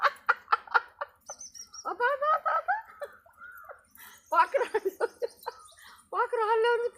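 Birds chirp in short high calls close by, mixed in among people talking at a home, where small birds like sparrows have gathered.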